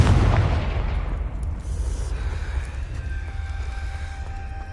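A Confringo blasting spell in the Hogwarts Legacy video game goes off as a loud, close boom at the start, then fades into a lingering rumble with faint ringing tones.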